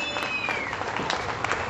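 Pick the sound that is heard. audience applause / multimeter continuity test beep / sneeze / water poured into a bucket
audience applause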